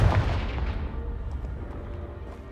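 Confringo fire-spell explosion in Hogwarts Legacy, a loud booming blast right at the start followed by a long rumbling decay and scattered debris, with no talking.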